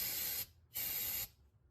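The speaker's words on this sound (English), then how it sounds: "I'm going to spray with some brake parts cleaner." Brake parts cleaner hisses from an aerosol can in two firm bursts, each about half a second, with a short pause between them, sprayed close by onto a 1996-1998 Mustang GT 4.6 engine before removal.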